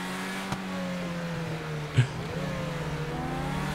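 A Lamborghini Countach's engine in GTA 5 hums steadily with rising and falling revs, a continuous drone broken by a couple of short clicks.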